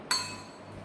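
A spoon strikes a glass of water with sugar in it, giving one bright, ringing clink that fades quickly into a quiet room.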